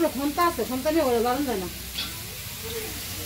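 Meat frying and being stirred in a pan in a Bangladeshi village kitchen, a soft continuous sizzle with light scraping. A voice talks over it at first, then the sizzle continues alone.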